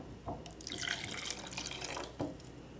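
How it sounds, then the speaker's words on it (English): Cold water pouring into a cup, a steady splashing trickle lasting a couple of seconds with a few soft knocks at the start and end, close and clear. "you're gonna wanna start out with a half a cup of cold water."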